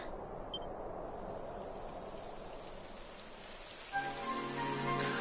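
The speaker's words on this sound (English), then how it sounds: "It would have to go and start raining, wouldn't it?" Steady rain in the video game Dragon Quest XI patters as a dense hiss, then a soft musical tone rises beneath it near the end; no talking.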